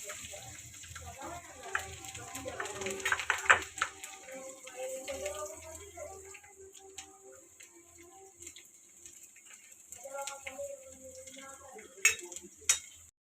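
Garlic and a pinch of hing sizzling in hot oil as they are stirred in a pan for a Gujarati dish, a soft crackle with occasional scraping, under a woman's speech.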